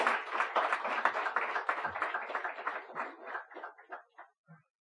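An audience at a spiritual discourse gives a round of applause, a dense burst of many hands clapping together that thins out after three seconds into scattered last claps and fades to silence.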